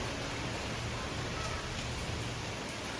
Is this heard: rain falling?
yes